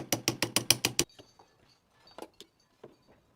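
A ratchet wrench loosens the positive terminal on a car battery, with a quick run of seven or eight loud clicking strokes followed by faint scattered metallic taps and clinks.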